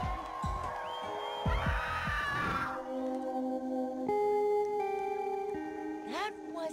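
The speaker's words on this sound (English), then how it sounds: "That wasn't a happy to see us scream." A creature in Minecraft: Story Mode lets out a long, wavering, high-pitched shriek over a deep game soundscape, followed by low droning tones and a brief rising squeal at the end.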